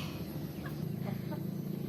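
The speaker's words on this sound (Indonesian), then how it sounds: "Nah, ini ada ayam bangkok ya." Low, soft clucking from a Bangkok chicken, a fighting rooster breed, repeating steadily at close range with a few brief higher calls over a constant background hum.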